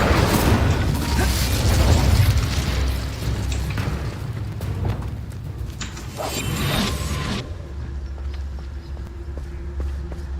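A fire spell cast in Hogwarts Legacy, a loud whooshing burst of flame amid rumbling game effects, ending with a low steady hum.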